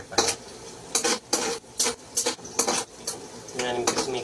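Onions stirred in a pan on a home stove, a series of sharp scraping strokes of a utensil against the pan at a steady rhythm, with a soft sizzle underneath.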